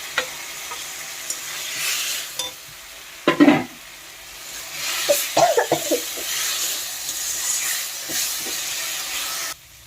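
Garlic frying in oil with a steady broadband sizzle throughout, broken by a couple of louder stirring bursts near the middle, close and fairly loud with no talking.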